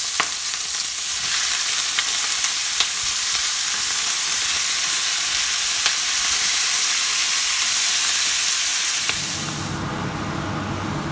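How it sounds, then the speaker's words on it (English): Skin-on prawns frying in a pan over low-medium heat, giving a dense, steady sizzle and hiss with occasional crackles, then shifting near the end to a rougher, lower bubbling fry. "So I've dropped in my prawns and they are skin on, right?"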